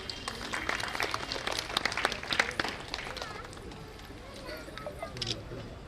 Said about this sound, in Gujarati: ભગાભાઈને તાળીઓથી વધાવીએ.